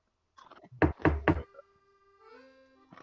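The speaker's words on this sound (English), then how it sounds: "I'm gonna knock on the door." Three loud, sharp knocks on a door in quick succession, close by, followed by a faint low hum and a soft voice-like murmur.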